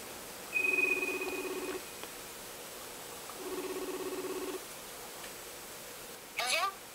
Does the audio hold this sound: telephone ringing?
yes